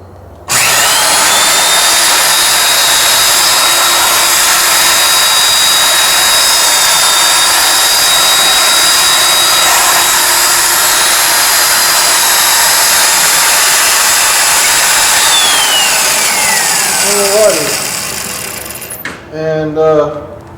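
A loud power drill whines steadily for most of the stretch while drilling a 1/4 inch hole in a homemade trailer part, then spins down and stops, followed by a few brief clatters.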